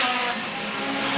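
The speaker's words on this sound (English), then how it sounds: "Both cars sideways through turns 3 and 4." Pure stock race cars slide sideways through turns 3 and 4 at Star Speedway, engines roaring steadily with sustained tire squeal, loud and continuous without pause.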